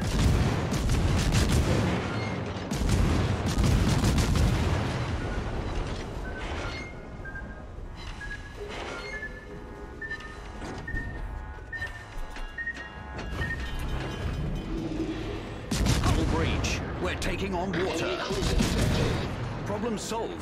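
Naval shellfire booms in the video game Radar Minotaur, with repeated heavy blasts and rumbling bursts under game sounds and chatter, loud and dense at the start and again near the end.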